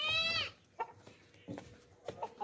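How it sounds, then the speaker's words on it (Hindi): A sacrificial goat for Eid Qurbani, a two-toothed market goat, lets out one loud, close bleat at the start, followed by a few soft knocks and shuffles. "ये देखें भाई ज़बरदस्त कुर्बानी का बकरा है।"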